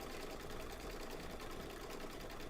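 An embroidery machine stitching a pink quilt label, heard as a faint, steady, rapid mechanical whirr that runs evenly without pause.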